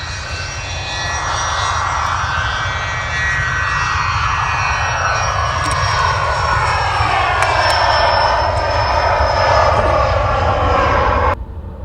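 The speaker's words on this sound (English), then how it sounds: "watching the private jet take off" A private jet roars steadily as it takes off, a loud sustained engine rush with a shifting whine, close and dominant throughout before cutting off abruptly at the end.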